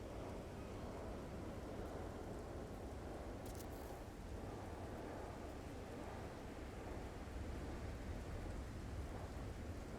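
Steady heavy rain with rumbling thunder during a storm in the video game No Man's Sky, a dense continuous wash of noise throughout with no voices.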